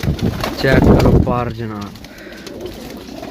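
Farsil pigeons coo close by in a loft in Gujrat, with soft throaty calls heard under someone talking loudly.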